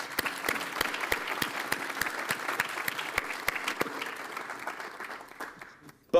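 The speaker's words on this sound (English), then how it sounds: "So, first round of applause to you." Conference audience applauding at an opening keynote, dense clapping that gradually thins and fades over several seconds, ending with an abrupt louder noise.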